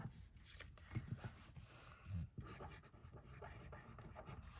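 A Papermate Flare felt-tip pen writes on writable sticky tape, making faint, soft scratchy strokes in short bursts against a quiet room.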